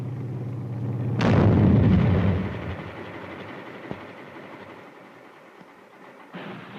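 A 1943 bazooka rocket, set off electrically by closing the circuit to the launcher's dry cell battery, goes off in one loud booming blast that rumbles away over a couple of seconds. A hum comes before it, and a faint click and distant noise follow.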